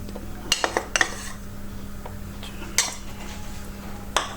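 Hash brown mixture being mixed with cornflour and salt in a bowl, giving scattered clinks and scrapes of a utensil against the dish, a few sharper knocks spaced apart over a quiet kitchen hum.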